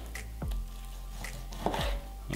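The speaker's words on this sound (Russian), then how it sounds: "Мясо нарезаем произвольно." A knife chopping raw meat into small pieces on a cutting board in a home kitchen, a few irregular thuds of the blade, close and fairly quiet.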